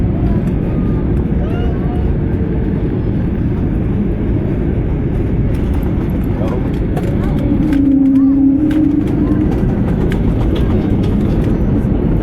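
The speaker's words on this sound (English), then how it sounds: "started our descent slowly down into Istanbul Airport" A Turkish Airlines narrowbody jet descends into Istanbul Airport, its cabin filled with a loud, steady low engine and airflow roar that runs unbroken throughout, with faint cabin sounds on top.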